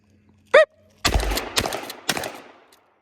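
Shotgun blasts during an FBI qualification course of fire on a range: a short high call or whistle, then three loud, sharp reports about half a second apart, each leaving a brief ringing tail, with no talk.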